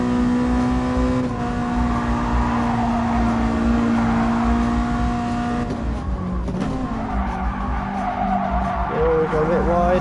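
Honda engine with VTEC in the GT Sport racing game, revving hard and holding a high whine, then shifting pitch around the six-thousand-rpm cut-in, with tire squeal under it.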